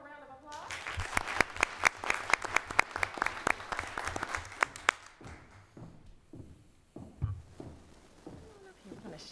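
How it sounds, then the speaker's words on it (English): Applause from the audience at a school board meeting. Sharp individual claps build quickly, hold for several seconds and then thin out into scattered claps, with talking as the clapping fades. "Let's give him a round of applause."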